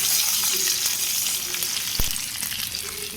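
Soaked soybeans, leafy greens and green chillies fry in a pan with a loud, steady sizzle and a light stir or clack partway through, close up with no talking.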